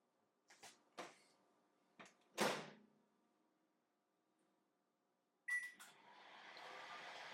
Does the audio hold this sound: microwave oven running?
yes